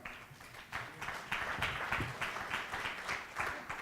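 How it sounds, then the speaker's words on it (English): An audience at a school board legislative advocacy conference breaks into applause, a soft, distant wash of many hands clapping steadily for a few seconds. "occasionally I can get applause"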